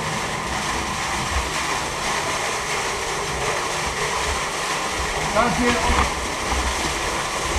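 A stream flows inside the Grotte du Reclot cave, a constant hissing rush of water with faint splashes, heard beneath someone speaking briefly.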